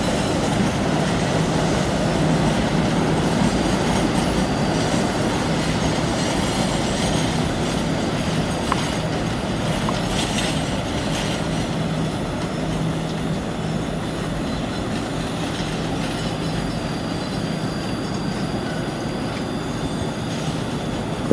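Passenger train on a hill line near Tumiyang, holding at a signal before the next station: a steady, loud rumble and hum with faint metallic squeals, unbroken and with no voices.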